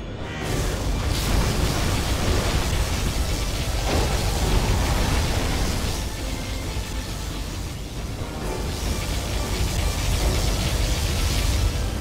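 Particle cannon blast in the game Command & Conquer: Zero Hour, a sustained loud roaring, rumbling burst filling the whole stretch, swelling and easing slightly midway before surging again.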